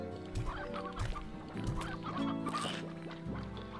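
Hens in the Slime Rancher video game cluck repeatedly in short bursts over a steady tonal game music background, fairly loud and close.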